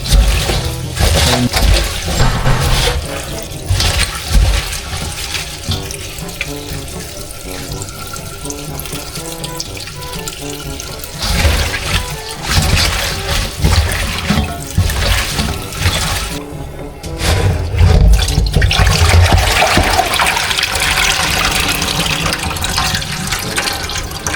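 Kangkong water spinach washed under a running tap in a sink, a loud continuous gush and splash of water with shifting intensity as the leaves are handled, close up and without talk.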